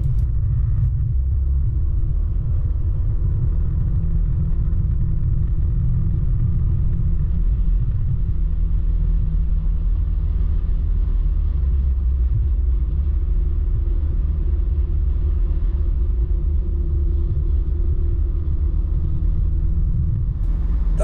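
A scooter riding on a smooth, well-surfaced country road near Büdingen in Hesse, giving a steady, loud, low engine and road rumble that runs without a break throughout, with no voices.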